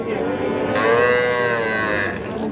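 A young bull calf at a cattle market, either a cross or a Sahiwal, lets out one long, loud moo close by over a background murmur of the market.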